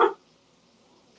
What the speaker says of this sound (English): I mean, that's my dog.